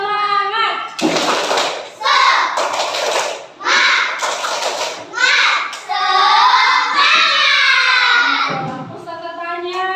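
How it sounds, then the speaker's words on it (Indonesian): A group of children doing a rhythmic spirit clap: loud bursts of hand claps and thuds in a patterned beat, mixed with the children chanting together in high voices. "Tepuk semangat dulu."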